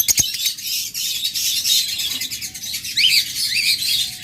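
A pair of pet Opaline budgerigars chirps and squawks in bright, repeated high calls, some clear twittering bursts near the end over a steady background hiss, with no talk.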